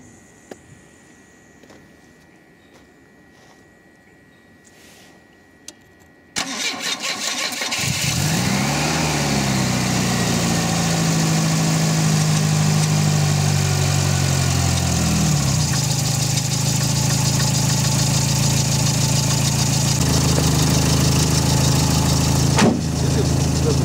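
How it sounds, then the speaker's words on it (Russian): A Volvo 740 with a B230K engine and straight-through exhaust cranks and fires up after a quiet stretch, then settles into a loud, steady, rumbling idle with a slight rev near the end. "Поражайтесь такому звуку глушителя."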